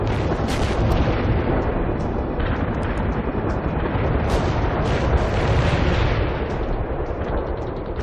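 In the World in Conflict battle game, a heavy attack unleashes relentless artillery and explosions: continuous loud rumbling blasts and gunfire overlap without pause, with sharp impacts cracking through the roaring barrage.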